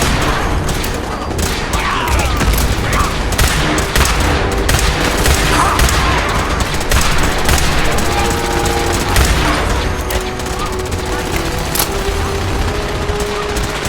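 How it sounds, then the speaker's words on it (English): Heavy gunfire from a firefight in the Fallout 4 video game, including a minigun, rattles continuously and loudly throughout, with dense overlapping bursts and booming impacts and no pause. "Sir, one of them has a minigun."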